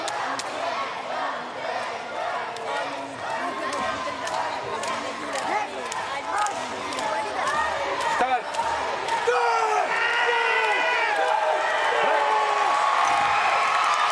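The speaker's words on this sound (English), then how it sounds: "A huge roar from the crowd and from Olivia." A loud, sustained crowd roar fills an arena at a Paralympic women's -50kg powerlifting final in Paris as a lifter completes a round-three attempt at 119, with shouts and cheers rising and holding steady throughout.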